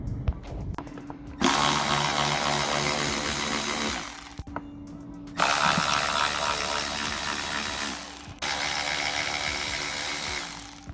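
A power tool drives out Torx 25 screws on the air filter box of a 2010 BMW 320i. It whirs loudly up close in three sustained bursts with short gaps between them.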